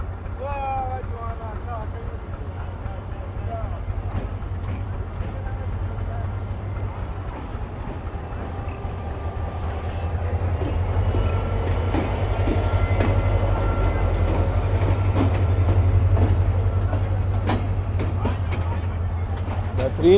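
The Hazara Express train engine idles at a Pakistani railway station, a loud, continuous deep rumble with a thin high whine and scattered metallic clanks, growing slightly louder as it goes on, with voices nearby.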